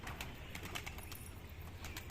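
Faint sounds of desi Giribaj pigeons, soft cooing and light fluttering, come from a distance on a rooftop over a quiet background hiss.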